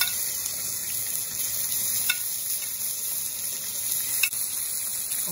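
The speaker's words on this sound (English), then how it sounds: "and I'm searing" Tuna searing in a hot pan gives a steady, close sizzle with a hissing, frying texture, joined by a couple of faint clicks.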